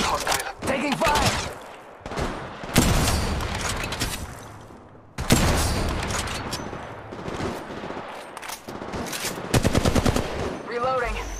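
Rapid bursts of automatic gunfire in the mobile battle royale game Apex Legends Mobile, loud and close, with stuttering volleys broken by short pauses and occasional game voice lines underneath.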